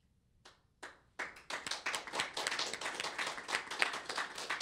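An audience at a public event starts with a few scattered claps that quickly swell into dense, continuous applause filling the room.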